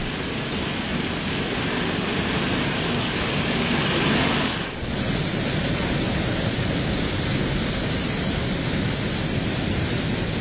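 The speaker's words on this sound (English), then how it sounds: "This hailstorm was accompanied by strong winds." A hailstorm driven by strong winds in Italy pours down as a dense, loud roar of pellets hitting surfaces, with a brief lull near the middle before the steady pounding resumes.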